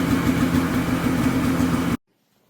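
A small Polaris Colt ATV engine idles steadily with a low, even rumble, close by, then cuts off abruptly into silence.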